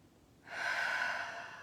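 During a guided early-morning meditation, one slow, airy breath is drawn in close to the microphone after a quiet start, swelling smoothly and then gently fading, with no talk over it.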